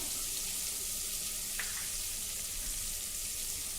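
Garlic cloves fry in ghee, giving a dense, even hiss that holds at one level throughout, heard close with no talk.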